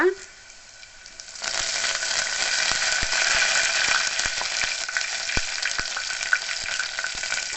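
Curry leaves hit hot oil and burst into a loud, steady sizzle with sharp crackling pops, nearby and continuing for several seconds while a tangy amla dal rasam is seasoned.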